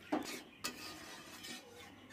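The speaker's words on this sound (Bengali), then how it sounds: "জলটা দেওয়ার পর ভালো করে নেড়ে চেড়ে নিলাম।" A spoon stirs soybean curry in a pot just after water is added, giving a couple of soft scraping clinks followed by quiet wet swishing, close and faint.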